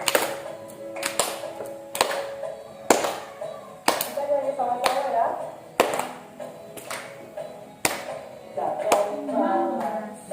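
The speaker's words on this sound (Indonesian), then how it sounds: "Tepuk tangan ya." Sharp, evenly spaced hand claps from a classroom group, roughly one per second, ringing out close and fairly loud while voices talk and murmur between them.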